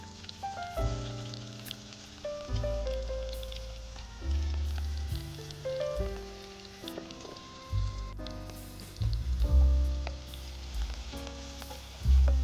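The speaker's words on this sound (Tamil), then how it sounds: "இந்த காஞ்சி இருக்கிற எண்ணெய் நெய் கலவையில் இந்த வெங்காயத்தை போட்டுடலாம்." Onions sizzle steadily in a hot oil and ghee mix, the frying close and continuous with repeated clanks and scrapes of stirring in the pan.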